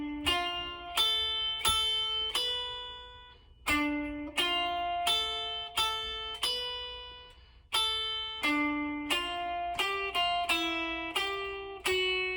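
A full melody from The Legend of Zelda is played on guitar as a run of clean single plucked notes, some quick and some left to ring. The playing is close and steady throughout, with no voices.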